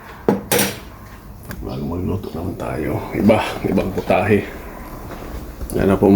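Freshly washed pots and dishes are handled in a home kitchen, giving sharp clanks and metallic knocks at uneven intervals. A person talks between and over the clatter.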